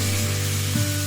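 Curry leaves, turmeric, green chillies, coriander and crushed ginger sauté in hot oil for kadhi, giving a loud, close, continuous sizzle with a low steady hum beneath it.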